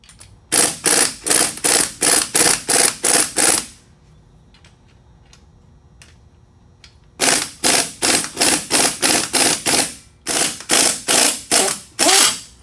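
A hand ratchet clicks in fast, even bursts as it loosens a strut spring compressor on a Nissan Sentra, three runs of rapid clicking separated by a quiet pause, close and crisp.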